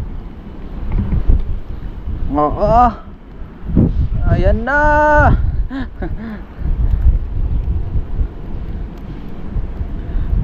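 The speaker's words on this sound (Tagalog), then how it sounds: "Lakas ng hangin." Strong wind buffets the microphone aboard a fishing boat at sea, a constant low roar that runs throughout under several short bursts of speech.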